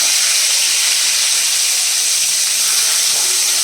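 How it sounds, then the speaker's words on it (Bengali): Bitter gourd frying on high heat in a heavy kadai, making a loud, steady, unbroken hiss with no voices. "তো প্রথমে চলো উচ্ছেটা ভেজে নিই"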